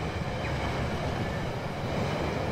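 A train rolls along its tracks in the Rolling Line model railway game, a steady broadband rumble with a low chugging texture that holds at an even level throughout, with no talking.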